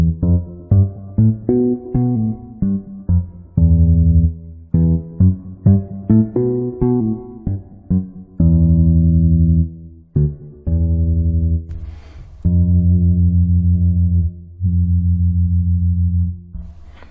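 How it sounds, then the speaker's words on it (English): A bass patch on a Yamaha EX5 modeling synthesizer, played as a loud, deep riff of short plucked notes that gives way to longer sustained held tones, alone without talk. "For example, this bass."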